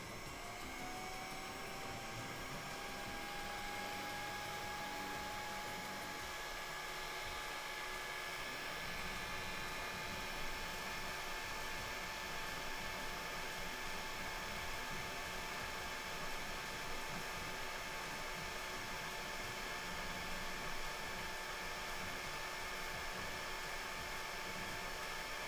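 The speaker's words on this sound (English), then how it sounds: "let's put the heat shrink tubing back on first. Grab a little heat gun in here." A small heat gun blows steadily while shrinking heat shrink tubing over the wires of a noisy kids' toy, a constant close airy whoosh with a faint whine, holding level for the whole stretch with no talking.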